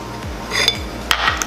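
Batter of flour and powdered sugar being mixed in a bowl for molten chocolate lava cakes, a few soft scraping strokes with light clinks of utensil on the bowl, close and quiet.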